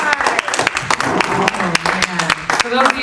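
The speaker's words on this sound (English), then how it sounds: "give our chefs a round of applause" A studio audience applauds the chefs on the cooking competition Chopped, a dense, steady patter of many hands with a voice talking over it.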